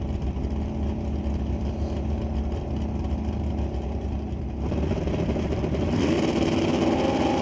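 A 1966 Chevrolet Impala drag racing car idles and revs in the right lane at Mission Raceway Park, a loud steady engine drone that rises in pitch toward the end, with no talk.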